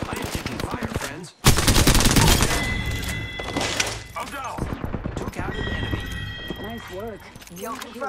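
Rapid automatic gunfire in the Apex Legends battle royale, loud bursts after a brief pause, then continuing volleys and scattered shots through a busy firefight, with clicks and game effects mixed in.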